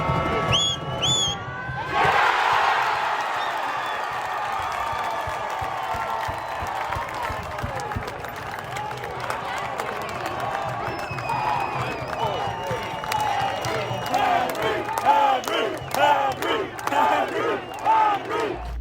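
Forge fans in a stadium erupt in a roaring cheer after a goalkeeper's save, with loud crowd shouting, whoops and rhythmic clapping building toward the end, filling the space continuously.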